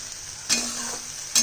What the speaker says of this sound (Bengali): মিক্সির জারটা ধুয়ে জল দিয়ে দিলাম।